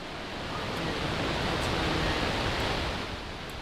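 A steady, broad roar of rushing noise from a Falcon 9 rocket launching the GPS III-05 satellite, heard at a distance, swells and holds without a break and then eases slightly.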